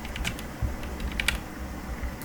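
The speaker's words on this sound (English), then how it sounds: "Now what we need to do is left control and V on the keyboard." Short clicks of key presses on a computer keyboard while a player works the controls of an AH-64D helicopter flight simulator, a few quiet taps scattered over a low steady background hum.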